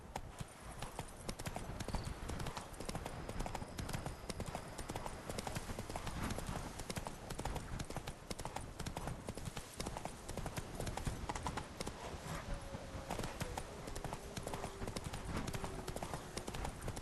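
A horse's hooves clip-clop in The Witcher 3, a steady, quick trotting rhythm of hoofbeats that runs unbroken and fairly close, with no talking over it.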